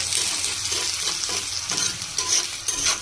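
Chopped garlic, onion and green chilies frying in a pan for spinach bhaji, a steady close sizzle with stirring scrapes running throughout and no talk.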